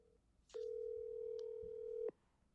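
A steady telephone dial tone sounds during a phone call placed on a live stream. It starts abruptly, holds one unbroken pitch for about a second and a half, then cuts off, alone against a quiet background.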